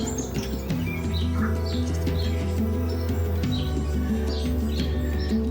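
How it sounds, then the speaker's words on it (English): Many birds chirp and call in overlapping bursts in a forest in Wellington, New Zealand, bright and close, above a constant low drone. "all of the bird noises are so wonderful"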